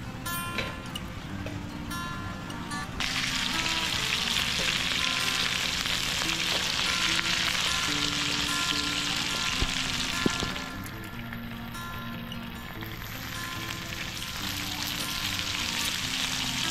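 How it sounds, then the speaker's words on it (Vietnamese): Small birds frying in hot oil in a pan, slightly overcooked and darkening, giving a steady, close, dense sizzle that swells louder after a few seconds and keeps crackling without pause, with no talk over it. "Rồi hiện tại chim đồ chiên chín rồi em ơi, nhưng nó hơi quá lửa"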